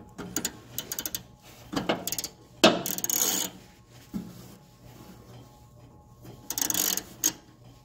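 A ratchet wrench tightening an alternator bolt on a Ford 8N tractor, heard in several bursts of rapid clicking with pauses between them, close and fairly loud with no talking.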